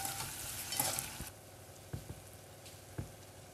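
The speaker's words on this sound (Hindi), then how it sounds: "इसको भूनेंगे। इसमें थोड़ा सा हम खड़ा लहसुन और थोड़ा सा खड़ा अदरक भी डाल देंगे" Onions frying with whole garlic cloves and pieces of ginger in a pan for quail curry, a steady close sizzle that swells briefly early on, then settles with a few distinct stirring clacks and pops, no voices.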